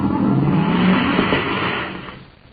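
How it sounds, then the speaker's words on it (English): A car engine revs hard as the car pulls away, a loud roaring acceleration that fades toward the end. "A few moments after Duncan and Savage roar away in the commander's surface car"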